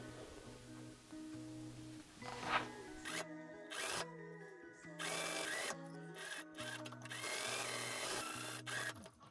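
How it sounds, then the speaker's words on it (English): An overlock sewing machine stitches a seam in several close bursts of fast mechanical whirring that start and stop, with steady humming tones between bursts and no speech. "sew this and then overlock this"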